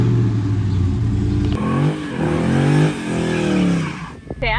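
A Dodge Charger with an upgraded exhaust revs loudly up close, the engine rising and falling in several swells before a sharp blip at the end, with faint talk beneath.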